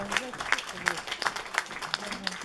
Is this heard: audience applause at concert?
yes